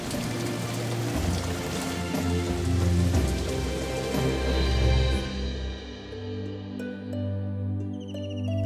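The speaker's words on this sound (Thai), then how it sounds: "และสายฝนคืนสายน้ำลงสู่พื้นดิน" Rain falls steadily and loudly onto the ground and surfaces around a freshwater lake in Thailand, a dense close patter that thins out as low sustained tones take over.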